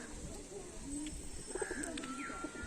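A chila pigeon gives short, close cooing calls over a couple of seconds, soft rolling notes against quiet background noise.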